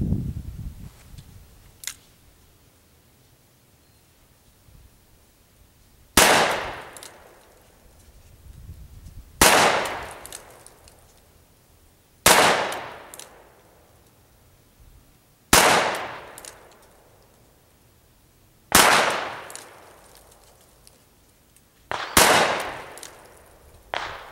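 Smith & Wesson Model 610 10mm revolver fired outdoors, six loud booming shots spaced a few seconds apart, each with a long reverberating decay, after a faint earlier click and pop.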